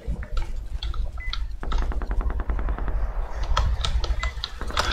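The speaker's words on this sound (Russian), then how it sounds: "если мы слышим выстрел, значит это недалеко" Rapid automatic gunfire crackles in the video game Metro Exodus, firing in bursts with short pauses over a dense, loud game soundscape.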